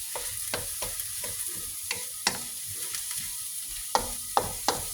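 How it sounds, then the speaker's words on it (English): Onions frying steadily in a pan with clove, cardamom and cinnamon for a vegan crumble keema, a constant sizzle broken by several sharp scrapes and clacks of stirring. "let's just keep these onions cooking"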